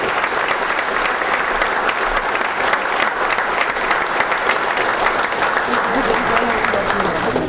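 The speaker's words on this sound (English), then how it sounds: "Can we give Reverend Daughtry another round of applause, please?" A crowd claps steadily and loudly throughout, a dense sustained round of applause with no pauses.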